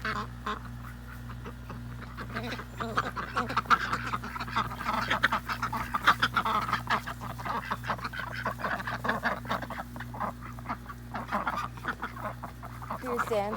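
Ducks quack repeatedly in a lively, overlapping chorus close by, with a steady low hum running underneath.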